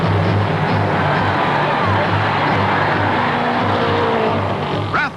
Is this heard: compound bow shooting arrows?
no